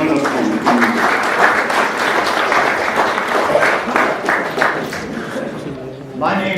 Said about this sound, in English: Please let's give them a huge round of applause